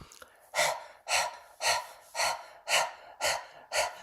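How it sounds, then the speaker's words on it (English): Forceful, rhythmic breathing from an active detox breathing exercise in a class: seven strong, evenly spaced breaths about half a second apart, close and loud, each one a harsh rush of air. "You can feel how your belly is activated with that active breath in and out."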